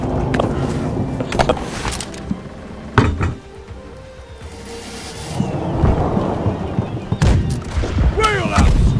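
Heavy booming blasts from ship cannons in the naval battle game Blackwake, a few loud sharp shots spaced apart among rumbling, clattering battle noise and faint voices.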